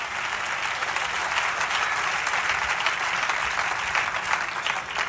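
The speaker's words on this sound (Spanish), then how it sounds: "Aplauda la grandeza de nuestro Dios." A church congregation applauds during a sermon, with a loud, continuous wash of many hands clapping at an even level throughout, filling the hall, and no talk on top.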